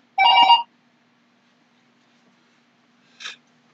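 A telephone rings briefly during a classroom lecture: one short ring, then a long silence, then a second, softer chirp, with no talk over it.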